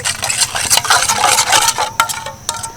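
Salt, baking soda and baking powder being stirred into oil for homemade wheat-flour biscuits, brisk scraping and clinking of a spoon against a bowl, close and continuous.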